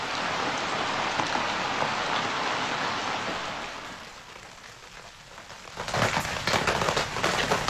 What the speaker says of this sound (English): So just generally rain, but this is what you can do with it.